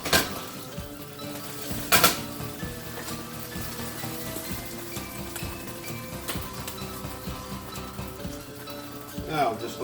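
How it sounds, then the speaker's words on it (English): Spaghetti sauce for meatballs simmers in a pot, giving a quiet, continuous bubbling and crackle with scattered pops and a few sharper clinks, fairly close and low in level. "Now just let that sauce simmer for an hour"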